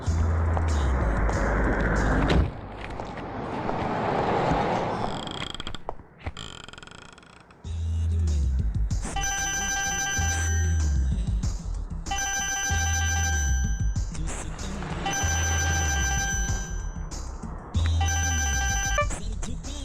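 An electronic phone ringtone plays in repeating melodic bursts, clear and fairly loud, following several seconds of noisy rumbling.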